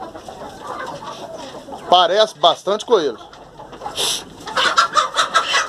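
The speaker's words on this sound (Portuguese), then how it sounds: "Olha lá o galo crespando com a galinha aqui fora." Outdoors on a Brazilian farm, a rooster and a hen cluck in a burst of loud, close, rising calls midway, followed by scattered softer clucks, while someone speaks Portuguese over them.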